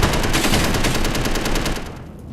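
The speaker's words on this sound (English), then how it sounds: "And we've also got a machine gun for" Rapid automatic fire from a handheld machine gun in the space sandbox game Space Engineers, a dense loud burst of shots that runs steadily for about two seconds before tapering off.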